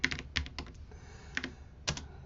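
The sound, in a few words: typing a command on a computer keyboard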